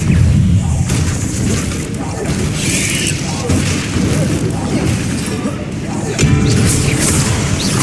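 A spell burst in the Hogwarts Legacy game, a loud booming crash with dense broadband impacts that stays strong for the whole stretch, mixed with voices and game effects.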